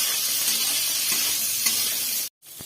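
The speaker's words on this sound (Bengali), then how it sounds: "উচ্ছেটাকে হালকা করে ভেজে নেব।" Bitter gourd fries in oil with turmeric and salt, a steady close hiss of sizzling with faint stirring, cutting off abruptly near the end.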